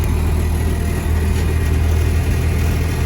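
An LS V8 swapped into an International Scout 80, run after long storage, idles with a steady, loud, low rumble that holds unbroken throughout with no talk over it.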